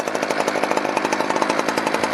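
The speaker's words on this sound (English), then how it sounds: "Chainsaw's still running there" A chainsaw mounted on an Alaskan chainsaw mill used for milling lodgepole pine idles close by with a quick, even, pulsing putter that holds steady throughout.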